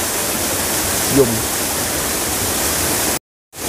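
A mountain stream in Da Lat rushes in a steady, loud, close wash of flowing water, with a brief voice in the middle and a short dropout near the end.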